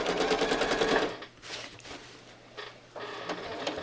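A sewing machine stitches patchwork quilt squares for a placemat with yellow thread, giving a loud, rapid mechanical chatter that breaks off, resumes in shorter bursts and runs again near the end.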